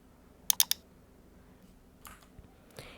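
A computer keyboard gives a quick cluster of three sharp clicks, then a few softer, scattered keystrokes follow after a pause, close by and with no talking.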